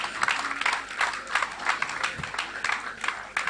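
An audience claps for a professor after a lecture, steady applause in pulsing waves, moderately loud and continuous.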